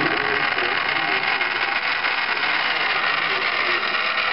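Cold cut metal saw with an electric motor running at about 928 RPM, giving a steady, even mechanical hum and whir that holds constant throughout with no talk.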